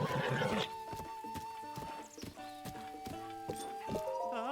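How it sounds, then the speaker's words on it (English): A horse in the Zelda: Breath of the Wild video game neighs loudly up close, then its hooves clop in a steady rhythm, the whinny ringing over crisp, evenly spaced footfalls. "It's a damn fine horse."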